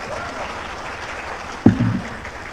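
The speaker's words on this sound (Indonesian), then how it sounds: "Tepuk tangan untuk mereka semua." An audience at an Indonesian Gerakan Rakyat political rally claps for the DPW leaders: a soft, diffuse patter of hands, broken near the end by a brief louder burst with a voice.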